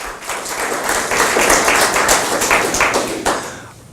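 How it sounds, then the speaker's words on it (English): An audience applauds Mayor Howard Wiggs at a police chief's community gathering: a dense wash of clapping from many hands that holds steady and then tapers off toward the end. "Can give him a round of applause"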